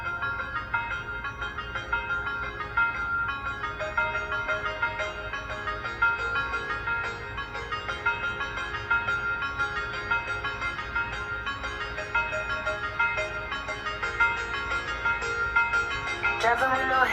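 A song, the opening track of an album, plays steadily with a dense, tonal mix and a regular pulsing beat throughout, loud and unbroken with no talk over it.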